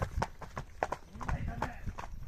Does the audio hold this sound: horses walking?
yes